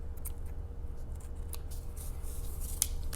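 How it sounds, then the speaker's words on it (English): Small scissors trimming loose embroidery floss threads from a button embroidery rosebud, a few quiet, sharp snips spaced out over a low steady background. "And then I'll trim off all my threads."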